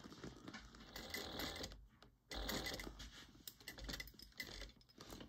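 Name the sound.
sewing machine stitching a tote bag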